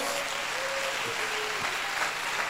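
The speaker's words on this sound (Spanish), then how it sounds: "da un aplauso al Señor." Audience applause during a church service, continuous clapping that sounds fairly distant and moderately loud, with a faint voice briefly audible underneath.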